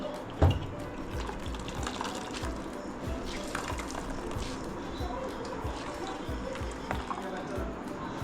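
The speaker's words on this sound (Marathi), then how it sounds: "दुसऱ्या वेळेस पाणी टाकून परत हे गहू धुवून घेतलीत मी" Wheat grains are washed again in fresh water, with continuous close sloshing and trickling water and a soft knock near the start, under a speaking voice.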